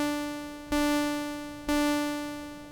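A sawtooth-like tone from an Arturia MicroFreak's SAW-X oscillator with every parameter at zero drones steadily, buzzy and harmonic-rich, retriggered twice with a sharp attack and slowly fading loudness.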